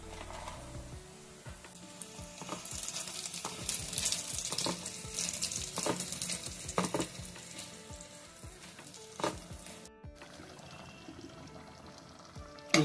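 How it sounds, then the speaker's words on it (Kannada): Small cut pieces of dried coconut fry in ghee for sweet pongal, crackling and sizzling steadily with scattered pops and stirring scrapes, moderately loud and close, with no talking. "ಇದನ್ನ ಹುರ್ಕೊಂತೀನಿ ತುಪ್ಪದಲ್ಲಿ"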